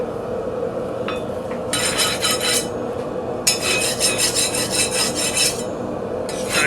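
Loose scale being scraped off the bevel of a stainless steel knife, heard as close, raspy filing strokes in bursts over a low, steady background hum.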